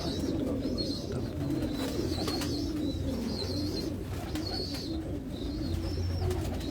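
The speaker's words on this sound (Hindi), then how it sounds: "ये देखें जी कैसा चीना कबूतर है" Chinese breed pigeons in Lahore coo repeatedly at close range, soft throaty calls recurring over a steady background murmur.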